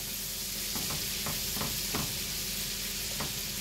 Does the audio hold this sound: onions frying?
yes